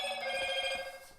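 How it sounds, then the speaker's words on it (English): A mobile phone ringtone sounds on its own, a bright, steady electronic tone that fills the short moment. "Apologies for that, that's my phone."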